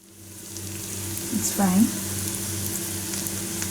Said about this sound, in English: At this moment I'll add garlic and ginger.